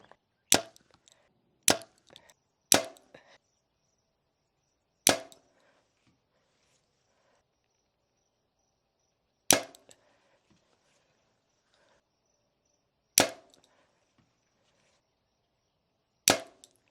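Darton Sequel 33 compound bow, a fast build drawn to 60 pounds, looses arrows as sharp isolated snaps with short ringing tails, seven shots spaced irregularly over quiet gaps, close and fairly loud.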